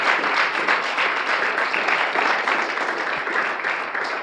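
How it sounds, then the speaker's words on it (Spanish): A church congregation breaks into sustained, fairly loud applause praising God, the clapping dense and even throughout with no voices standing out. "Denle un aplauso al Señor Jesucristo."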